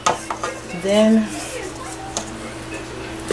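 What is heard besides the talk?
mixing cornbread batter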